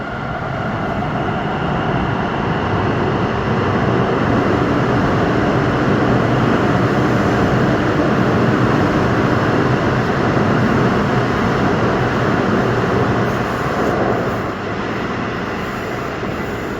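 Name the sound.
Kolkata underwater metro train departing from platform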